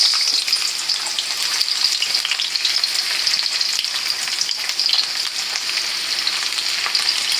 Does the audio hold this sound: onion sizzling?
yes